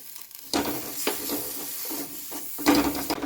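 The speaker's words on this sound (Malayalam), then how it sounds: "ഇതിലിട്ട് തക്കാളിയൊക്കെ ചെറുതായിട്ടൊന്ന് വഴുന്നിട്ടുണ്ട്" Tomatoes sautéing with spices and asafoetida in a pan for kadala curry, a steady close sizzle and hiss with stirring scrapes and louder bursts as the food is moved.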